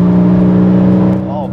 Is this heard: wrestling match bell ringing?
no